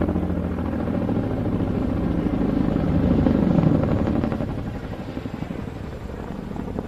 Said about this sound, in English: there's the iconic blade slap as one set of rotor blades passes through the vortices created by the other